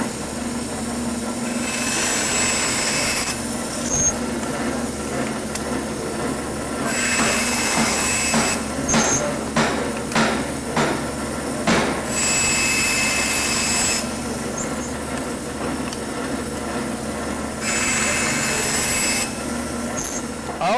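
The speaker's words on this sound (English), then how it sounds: "I'm going to make a cut, flip the piece over, and just keep going until it gets too close for comfort with my hand and the blade" A bandsaw cuts wood wedges in a workshop with a steady loud whine and a drone underneath, and brief rhythmic ticks appear midway as the blade works through the piece, no talking.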